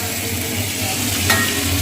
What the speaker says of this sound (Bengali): এখানে আমি ডালের ফোড়ন দিচ্ছি।